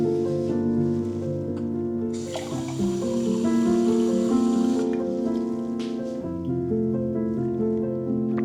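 Water pours steadily for several seconds, a bright rushing splash with soft background music running underneath throughout.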